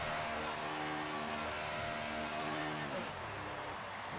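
An F1 car engine in the game F1 2018 idles and revs in the pit lane, a steady, high-pitched harmonic whine that holds and then drops in pitch near the end.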